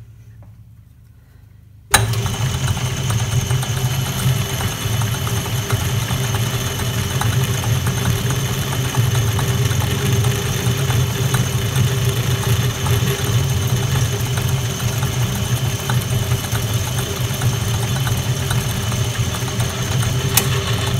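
A lathe cuts 316 stainless steel with a square insert tool, giving a steady, loud mechanical hum and whir that starts abruptly after a brief quiet moment and holds evenly without talk.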